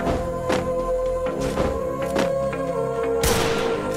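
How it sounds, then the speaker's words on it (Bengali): Desert Eagle pistol shots in a mobile shooter game, several sharp loud bangs spaced irregularly over steady game music and ambience, with a heavier blast near the end. "চলো দেখি ডেজার্ট টিকেল দিয়ে হেডশট দিতে পারি কিনা"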